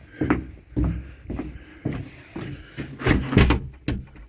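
Rear door of a 1950s mid-terrace house being tried while locked, a series of repeated rattling thuds and clunks every half second or so, close and fairly loud.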